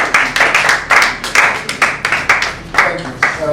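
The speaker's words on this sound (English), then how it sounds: "Please give him a round of applause for joining us against all odds." A small audience at a business storytelling talk claps in a loose, regular rhythm of sharp, fairly close hand claps, roughly four per second, with no talk in between.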